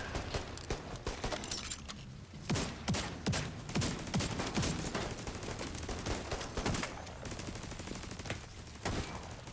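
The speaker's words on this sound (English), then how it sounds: "Fire the mortars!" Rapid bursts of weapon fire in a combat video game, with mortars launched among the shots, form a dense, continuous barrage of sharp cracks and thuds, loud and close throughout.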